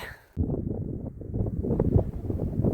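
Strong wind gusts through a forest along a walking trail, a sudden loud buffeting roar that starts abruptly and keeps surging, heavy and close with rumbling microphone wind noise.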